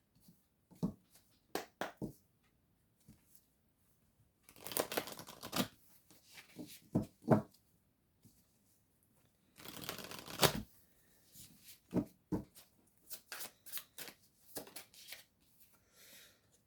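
Oracle cards shuffled by hand at close range, in two longer rustling bursts among scattered taps and short flicks, without talk.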